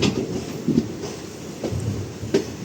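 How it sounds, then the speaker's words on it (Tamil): Passenger train pulling into a platform at Tiruchirappalli Junction, with a steady low rumble and periodic wheel clatter at rail joints, near and moderately loud, no talk. "திருச்சிராப்பள்ளி ஜங்ஷனுடைய பிளாட்ஃபார்ம் நம்பர் டூவில் தான் நம்ம ட்ரெயின் அரைவாயிட்ருக்கு"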